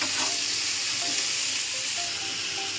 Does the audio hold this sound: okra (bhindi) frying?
yes